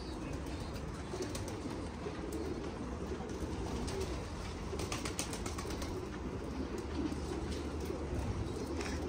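Domestic pigeons in a loft give soft continuous cooing, mixed with occasional wing flaps and a broad rustling background, steady and fairly close throughout.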